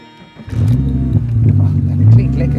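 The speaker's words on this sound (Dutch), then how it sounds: "Vijf cilinder geluid. Heel mooi," Five-cylinder engine of a Donkervoort D8 GTO revving, a deep loud rumble that rises after a quiet start and swells again near the end, close by, with a voice talking over it.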